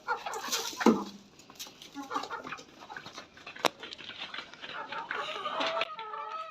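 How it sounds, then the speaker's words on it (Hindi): Desi hens and roosters cluck and squawk in bursts as they rush out of an opened coop, a busy, fairly close flock scattered over soft background noise. "तो मुर्गियों को खोल लेते हैं।"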